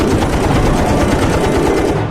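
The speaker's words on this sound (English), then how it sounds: "firing bursts the whole way" A fighter jet's guns firing a sustained rapid burst during a dogfight with a MiG, loud and close, a dense mechanical rattle of rounds continuing for about two seconds.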